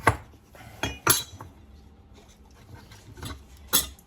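A knife works through a cushaw squash on a kitchen board, a handful of sharp clicking chops and taps spaced unevenly, close and fairly quiet with faint scraping between strikes.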